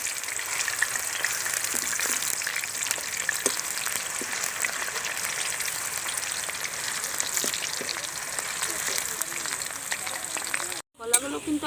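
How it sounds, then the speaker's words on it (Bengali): Slices of green plantain for chips fry in hot oil, giving a dense, even crackling sizzle that holds steady for about ten seconds, close by, with a brief break near the end. "তেলটা আমার গরম হয়ে গিয়েছে, এবার আমি একে একে সব কলাগুলো ছেড়ে দেব।"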